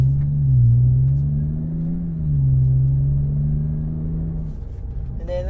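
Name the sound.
BMW F10 5 series Eisenmann axle-back exhaust, normal mode, from inside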